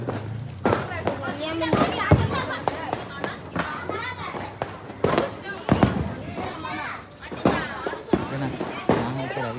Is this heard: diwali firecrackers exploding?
yes